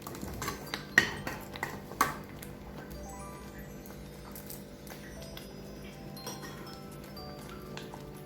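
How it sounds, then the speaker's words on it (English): A spoon clinks against a pot of plantain porridge, a few sharp metallic taps early on, then softer scraping and faint ticks over a low steady cooking background, close by. "Continue to give it some stir."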